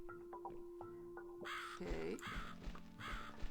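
Crow caws in The Cat Lady video game, several harsh calls in a row, loud and close, over a sparse tonal game soundtrack, with a brief spoken word near the start.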